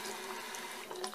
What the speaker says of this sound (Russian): Кран, вот именно такой я хотела ванну кран, чтобы он вот так вот поднимался.